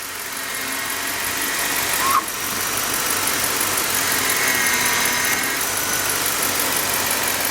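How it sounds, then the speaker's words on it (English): A 2005 Chevy Suburban engine runs at a steady idle, a loud, even mid-pitched hum with a brief click partway through and no other sounds. "she cranked it too quick, but I guess we didn't need to hear it crank up"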